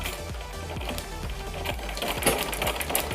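A sewing machine stitching the neckline of a suit close to the buckram interfacing, giving a steady, rhythmic mechanical chatter of the needle running at an even pace.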